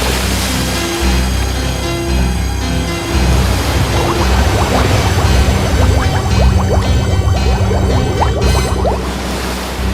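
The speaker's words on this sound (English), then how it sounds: "He was tossed around the sea by huge waves." Rough sea waves surge and crash continuously, a dense broadband wash of churning open-water surf with rumbling low swells and wind, heard alone without speech.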